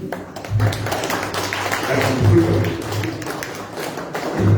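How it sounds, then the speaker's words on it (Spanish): Audience applause at a political party meeting about municipal and regional elections, a steady dense patter of clapping at moderate loudness with voices mixed in. "pido un fuerte aplauso para la compañera Carmen Najarro"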